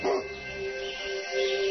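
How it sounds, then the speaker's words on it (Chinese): A large guard dog kept on a wooded hillside gives a short, fairly faint bark followed by a brief whine. "老赵只好每隔几百米养一条大狗，希望用狗的叫声把盗贼吓跑。"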